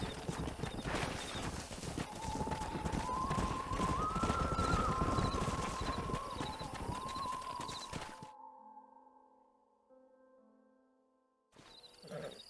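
Horse hooves clip-clop steadily in Red Dead Redemption as a stallion is ridden and reined in, loud and close for about eight seconds with a possible whinny, then cutting to near silence before a brief burst of noise returns.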